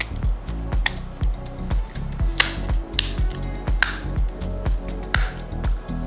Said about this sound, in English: line up the bottom shell to the controller and snap it back on